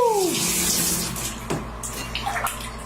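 Water from an American hotel shower runs and splashes in a steady rushing stream, with occasional knocks and splatters nearby and no talking.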